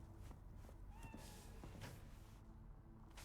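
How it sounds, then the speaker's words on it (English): A cat meows in the video game Cyberpunk 2077, a few short, quiet mews over soft footsteps and low ambient background. "I heard cat."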